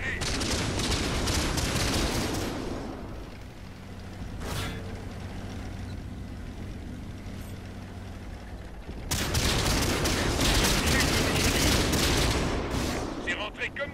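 Tank cannon fire and battle noise in the World of Tanks video game, with dense loud bursts of gunfire at the start, a quieter stretch, then another sustained heavy barrage near the end.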